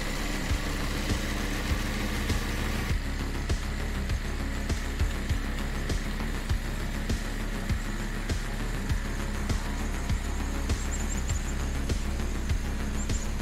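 A DIY mech's motor runs steadily as it drives, a continuous low mechanical hum with regular faint clicks or knocks ticking through it, close and alone without talk.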